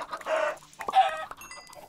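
Many chickens cluck in Minecraft, with short bursts of game-style clucking repeating close by over a quiet background.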